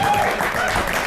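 Audience applause after a live performance in Reykjavik, dense clapping filling a room and heard close, with a voice speaking faintly underneath.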